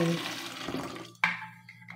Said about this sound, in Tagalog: Lagyan muna natin siya ng water.